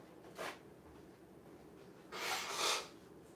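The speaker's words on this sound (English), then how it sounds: "hold on, let me blow my nose" A person blowing their nose during a live stream, two bursts of hissy, forceful nasal blowing, a short one then a longer, louder honk, close to the mic with no talking.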